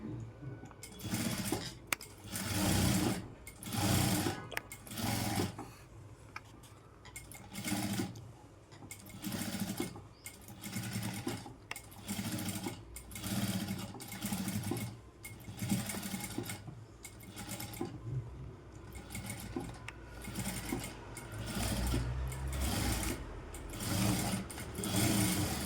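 A sewing machine stitches a Punjabi dress top in short repeated runs of rapid whirring needle clatter, stopping and starting as the fabric is reversed, close and clear.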